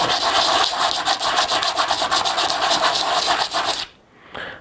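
A brake pad is rubbed in circles against the sandpaper of a running belt sander, making a loud, continuous gritty rasp with a rhythmic pulse, then cutting off abruptly near the end.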